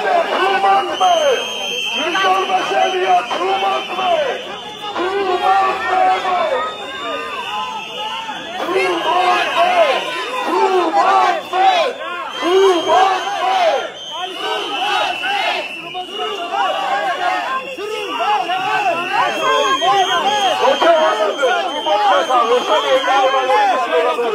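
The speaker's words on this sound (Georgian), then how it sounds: "გადაწყვეტილების გამოცხადებას ისინი საპროტესტო შეძახილებით შეხვდნენ" Supporters shouting in protest outside Batumi city court as a verdict on a journalist is announced, a loud crowd with chanting and overlapping raised voices rising and falling over a steady babble.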